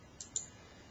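Two quick, faint computer mouse clicks a moment apart, selecting a spreadsheet cell in Excel, against a quiet room hiss.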